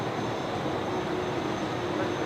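An airliner takes off at night at Brisbane Airport, heard as a steady, broad roar of jet engines with a faint hum underneath, continuous and fairly loud over the short stretch.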